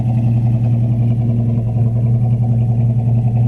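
A 1969 Chevelle Super Sport's exhaust idles with a loud, steady low rumble, unbroken for a few seconds with no talking.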